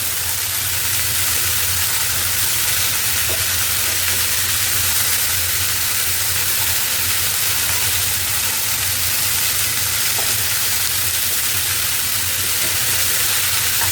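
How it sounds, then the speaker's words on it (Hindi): Cauliflower, beans and potato fry in a pan under a loud, dense hiss of sizzling oil that holds steady throughout, with only faint occasional stirring knocks and no voices. "तो कॉलीफ्लावर, बीन्स एंड पटेटो, आप इसको अच्छे से स्टर कर लें।"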